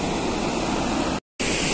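A large waterfall pours continuously at Thikri, a loud, dense roar of falling water that cuts out completely for a moment before resuming.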